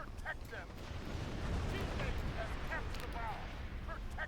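Bombs going off in a video game, a dense rumbling barrage of blasts and crackling bursts that runs continuously through the clip, with chirpy game effects layered on top and no talking.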